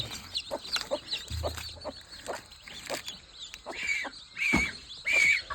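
Free-range desi village hens cluck in short, scattered bursts, several birds nearby with some sharper higher calls toward the end, and a brief low rumble early on.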